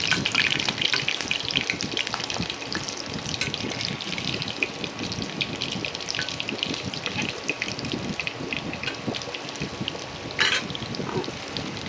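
Prawn and lentil kofta balls frying in oil crackle densely and continuously, a close, busy sizzle throughout with no voices.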